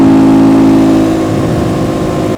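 A KTM 250 EXC-F dual-sport dirt bike engine revs hard, its steady drone wavering and dropping in pitch as it eases off.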